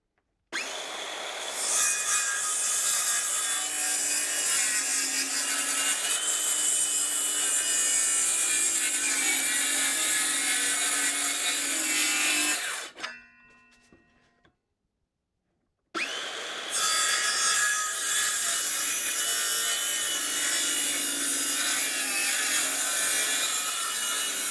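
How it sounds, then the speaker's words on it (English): A handheld circular saw cuts freehand through wooden pieces while building tables, a loud continuous whine for about twelve seconds, then a brief gap of silence before a second long cut at the same steady, close volume. "You can see that's about as straight as you're going to be able to cut freehand with a skill saw."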